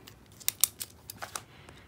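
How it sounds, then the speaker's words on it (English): Quick scratchy pen strokes on a paper savings envelope, several short close scritches and taps in an uneven burst lasting under two seconds, with no voices. "So I'm going to write down what this is."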